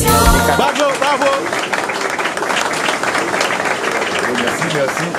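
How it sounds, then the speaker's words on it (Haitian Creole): Audience applause at a musical performance, a steady wash of clapping and crowd noise that rises after a brief musical opening, with a voice talking over it. "Mesdames, messieurs, sous vos applaudissements"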